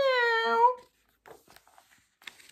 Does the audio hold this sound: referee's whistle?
no